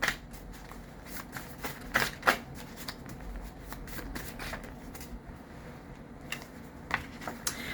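Tarot cards shuffled close by during a reading, giving soft, rapid riffling bursts with sharper snaps at irregular intervals and a faint background hum.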